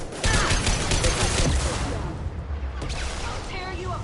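Rapid gunfire in Mass Effect 2 on PS4, a dense burst of loud shots for the first second and a half, then quieter game sounds and scattered reports, with voices over parts of it.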